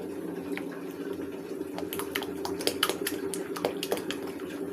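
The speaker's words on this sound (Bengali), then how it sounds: "এখন একটা ডিম দিয়ে দিয়েছি, বেটারটাকে ভালো করে গুলে নেব।" Chicken pitha batter with an egg being whisked in a bowl, giving quick, irregular clinks and taps that build in the middle, over a steady low background hum.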